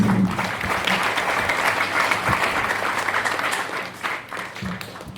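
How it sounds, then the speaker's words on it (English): An audience at a high school ribbon-cutting ceremony gives a sustained round of applause, a dense wash of clapping that holds steady and then fades slightly toward the end. "Can we give them another round of applause, please?"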